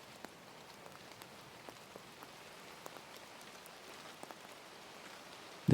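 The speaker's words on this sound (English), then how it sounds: "The rain tapped on the windows, gentle and repetitive." Gentle rain tapping on windows: faint, sparse, irregular drips and soft taps over a quiet steady hiss, with a brief louder bump at the very end.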